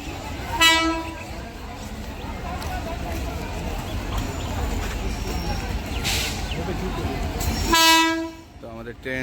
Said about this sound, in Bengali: তো ফাইনালি আমাদের টাইমের মধ্যে ট্রেন ঢুকে গেল